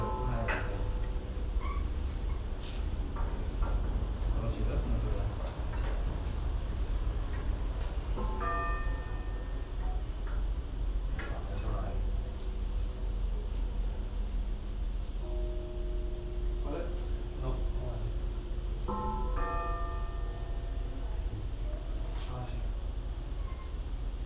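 Church bells ringing during the 2017 bell event in Sagunto, with clear tolls over a loud, steady wash of background noise and occasional faint voices.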